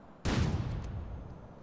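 A single loud blast from a shotgun in the video game GTA San Andreas, sharp attack followed by a booming decay that fades over a second.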